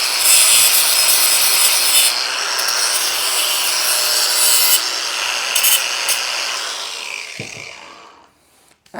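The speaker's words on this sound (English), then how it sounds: "I'm going to clean the burrs off the end of this though." Burrs are filed off the cut end of a silencer pipe for a 1925 BSA motorcycle, a steady close, loud rasping scrape that runs for about eight seconds and then stops.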